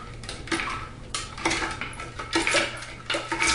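Concrete gelling agent is stirred into a container, giving repeated scraping and clattering strokes in short uneven bursts, close and fairly loud.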